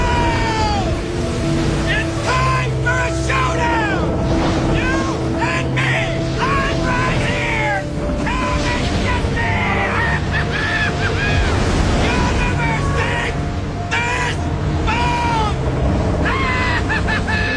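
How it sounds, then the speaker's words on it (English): A massive storm hits the sea in the film Forrest Gump, with waves crashing and wind roaring steadily under a dramatic music score that runs throughout, the surf and gusts loud and continuous. "A massive storm hit the sea almost instantly."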